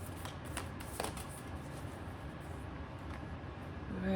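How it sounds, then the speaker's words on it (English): Tarot cards being shuffled and pulled from the deck: a steady, close rustling riffle that runs the whole time, with a few soft taps and no talking. "now I'm going to start pulling some cards"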